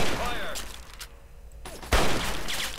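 Gunfire from the video game Fallout 3, dense bursts of shots in a loud firefight with a brief lull before another heavy burst, close and full.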